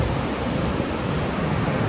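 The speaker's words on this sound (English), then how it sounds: "Definitely bigger swells than last week." Ocean swells and surf roll past a fishing boat out on open water, a loud, steady wash of water mixed with wind buffeting the microphone, continuous throughout with no voices.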